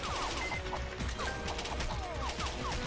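Gunfire from the video game Major Mayhem comes as rapid, dense bursts of shots over steady loud game noise, with repeated impacts and short whooshing tones.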